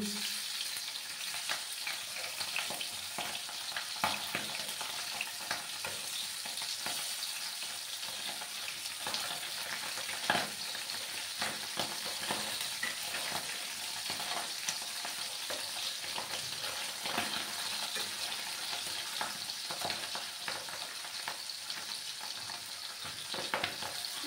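Pabda fish fries in hot oil with a constant crackling sizzle and scattered pops, close and steady for the whole stretch, with no talking.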